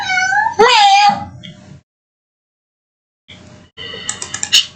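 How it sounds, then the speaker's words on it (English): A house cat gives a loud, close meow with rising and falling pitch, then goes quiet before another short mew; a person talks and keyboard tapping is heard in the background. "What are you mewing at me for?"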